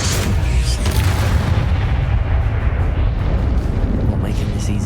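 A Confringo spell explosion in Hogwarts Legacy sets off a loud, booming blast that rumbles on as dense, sustained roaring noise through the whole stretch.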